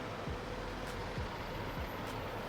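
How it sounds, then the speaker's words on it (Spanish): Traffic on a city street in Porto: a steady, dense rumble of engines with a few brief hissing bursts like air brakes, heard as a continuous wash of sound and no talk. "el tráfico de esta ciudad es impresionante"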